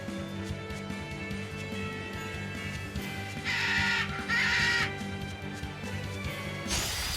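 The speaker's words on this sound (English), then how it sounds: "Giant bird." A giant bird enemy in the video game Tales of Berseria gives two harsh, screeching cries in quick succession over a low background music bed, followed by a sharp burst near the end.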